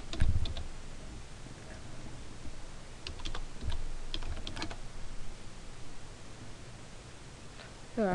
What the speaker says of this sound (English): Now I'm just going to start typing the date.